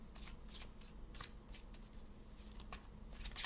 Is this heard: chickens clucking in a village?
no